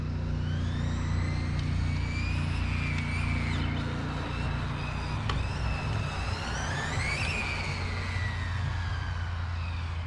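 Small WEX RC car on a track accelerating gently, its electric motor whining in rising and falling pitch sweeps over a steady low background hum, fairly close and continuous.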